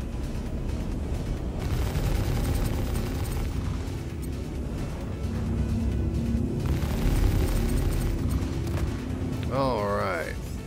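Auto guns firing during Star Citizen space flight combat, a steady rumbling barrage of rapid shots under engine drone, continuing for ten seconds with a rising whine near the end.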